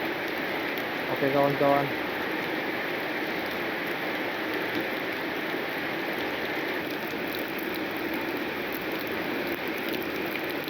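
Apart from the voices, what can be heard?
heavy rain falling while camping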